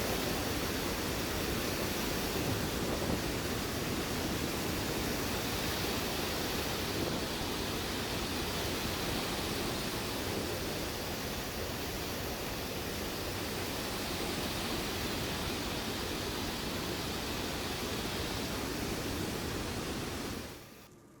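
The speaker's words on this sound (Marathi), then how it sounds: "सांडव्यावरून पवना नदीत पाणी सोडण्यास सुरुवात झाली" Water released over a dam spillway into the Pawana river makes a loud, unbroken roaring rush that stays steady throughout before cutting off at the end.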